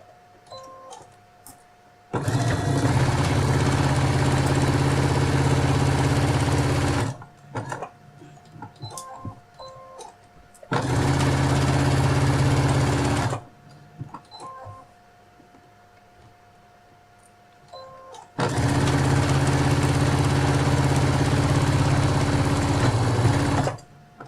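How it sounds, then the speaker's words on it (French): Sewing machine stitching the three sides of a fabric phone case, in three long loud runs of steady whirring separated by quiet pauses with small handling clicks, close and alone with no talking. "Et on coud les 3 côtés"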